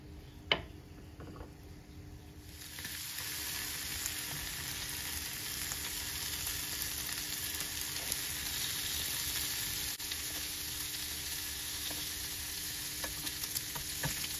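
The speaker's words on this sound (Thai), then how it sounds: "เราจะเริ่มจากเสียเบคอนในกระทะกันก่อนนะให้เขาพอมีความร้อน" Bacon sizzles steadily in a hot frying pan for breakfast sandwiches, a dense continuous crackle and hiss that swells in after a quieter start and holds loud and close throughout.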